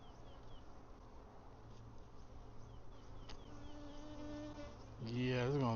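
Bees buzz in and around an opened beehive, a dense, close humming swarm with individual insects droning past and one louder buzz rising sharply at the end.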